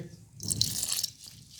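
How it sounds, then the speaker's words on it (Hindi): Warm milk pours into pizza dough in a bowl for kneading, a soft close splashing gurgle lasting about a second without talk. "दूध थोड़ा सा और डालेंगे"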